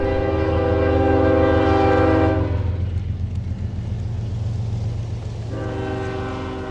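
A train rumbles along the tracks in Rawlins, Wyoming, on a windy day, with a loud sustained horn chord over the first two seconds, then fading out before sounding again near the end above steady wheel and rail noise.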